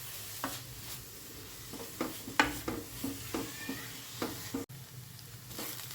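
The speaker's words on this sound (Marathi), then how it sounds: "थोडासा तुपावरती पण आपण किसलेला आपला हा आंबा आहे तो परतून घेऊया." Grated raw mango sautéing in ghee in a pan, a soft low sizzle broken by repeated scraping stirs and spoon clinks at an uneven rhythm, close by with no talking.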